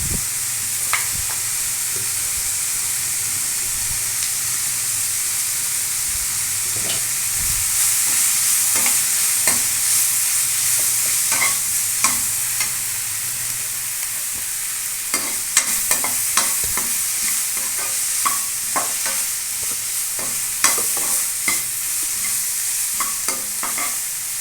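Vegetables for noodles are stirred and sautéed in a pan, giving a steady low sizzle with scattered scraping and clinking strokes of the spoon throughout, no talking.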